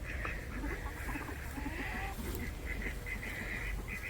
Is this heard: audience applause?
no